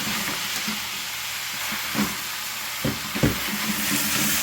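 Vegetables stir-fry with oyster sauce in a hot pan, a loud continuous sizzle broken by a few sharp scraping clacks of the spatula near the end.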